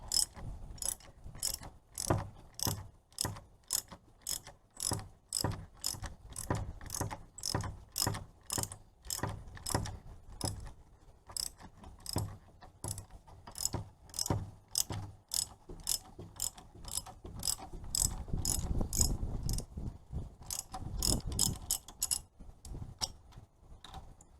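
A ratchet wrench clicks in rapid, regular bursts, loosening the strut nut on a 2002 VW Jetta during front strut removal. The ratcheting is close and clear, repeating steadily with no talk.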